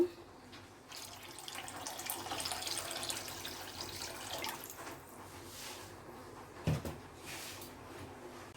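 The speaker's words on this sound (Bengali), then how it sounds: "এখন এর ভিতর আমি 2 কাপ পানি দিয়ে দেব।" Two cups of water being poured into a pan sitting on a stove over medium heat for pasta, a faint, uneven splashing trickle with a brief clunk near the end.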